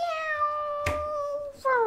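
A cat meows in Minecraft, one long, steady, tonal meow, then a brief noisy burst and a shorter, rising second meow, close and clear.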